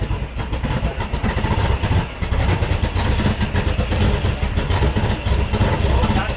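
A Ford Bronco truck engine runs roughly and unevenly, as though close to stalling, loud and steady throughout with people talking over it.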